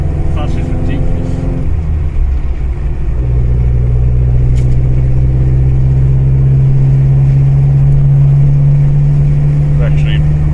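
A rebuilt 1985 Sigma car engine idles close by, a loud, steady rumble with a low hum whose pitch shifts slightly partway through, and voices are heard talking over it.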